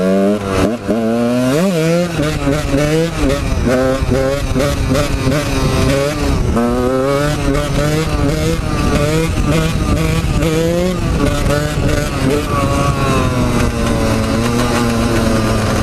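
A motorcycle being ridden hard along a straight for wheelie practice, its engine close and loud, revving up and down in repeated accelerating pulls with rising and falling pitch throughout, no talk audible over it.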